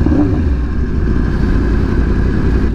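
A motorcycle engine rumbles low and steady at close range while the bike is parked, loud and alone with no talking.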